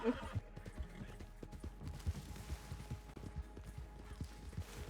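A video-game horse in Red Dead Online whinnies at the start, followed by rapid clip-clop hoofbeats of galloping that continue steadily throughout at moderate volume.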